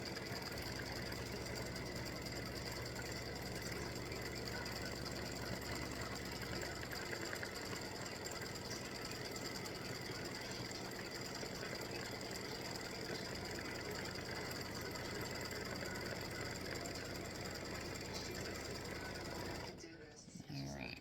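An embroidery machine stitches down a stiffener layer for a Halloween tic tac toe board, giving a steady, fast mechanical whirring and knocking hum that runs on unbroken and stops abruptly near the end.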